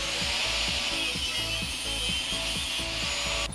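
Cutting crankcase bolts, a steady rhythmic back-and-forth sawing or grinding stroke, loud and close, stopping abruptly at the end.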